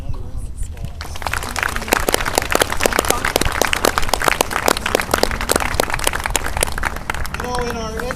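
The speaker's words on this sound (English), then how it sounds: "I'd like you to give him another round of applause." Applause from a Tea Party political rally crowd in South Dakota, with sharp individual claps ringing out over a dense backdrop and voices calling out underneath.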